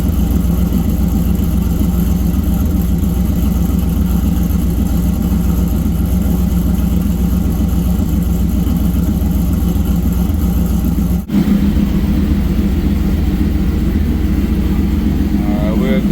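A pickup truck engine rumbles steadily and loudly at idle, then the sound cuts briefly before the truck pulls out with continued engine noise.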